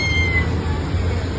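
A cat meowing, a short drawn-out cry over steady low rumbling background noise, close and fairly loud.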